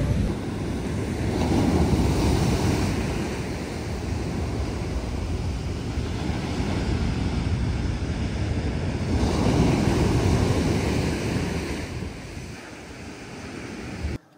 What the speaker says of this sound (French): les vagues sont énormes. T'as vu la taille des vagues?